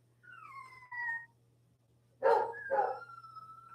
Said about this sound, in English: I know the boarding dog that's right outside this door that's barking.